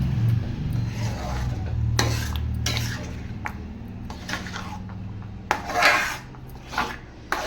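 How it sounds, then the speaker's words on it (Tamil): A utensil scrapes around the edges of a pan while ABC malt is stirred, giving repeated rasping strokes of varying loudness, close and uninterrupted by voices. "இந்த ஓரம் இருக்கிறதெல்லாம் நம்ம சுரண்டி எடுத்துகிட்டே தான் இருக்கணும்"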